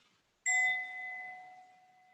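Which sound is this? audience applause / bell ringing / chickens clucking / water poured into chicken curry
bell ringing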